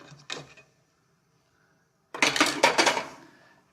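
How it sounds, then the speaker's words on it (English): Gnocchi are lifted from a pot and dropped into a pan, heard as a brief clink and scrape, a pause of near silence, then a close burst of rattling, splashing clatter of metal utensils and cookware. "The gnocchi have floated to the surface. They go right into this pan."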